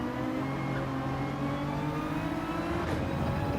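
Steady engine drone from a race car in Gran Turismo 7 during online lobby racing, holding a sustained, fairly loud tone with slight pitch rises as the throttle is pushed, with no talk over it.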